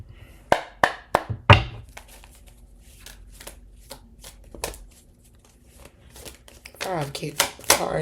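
A tarot deck is shuffled by hand close up in quick bursts of papery riffles, slaps and taps with short pauses between them. A voice comes in near the end.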